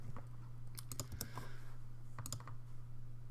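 A computer keyboard is typed on at a desk with quiet, quick clusters of clicking keystrokes in two short bursts over a steady low hum, with no talk.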